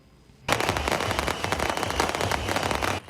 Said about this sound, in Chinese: 一个炮声连续一直炸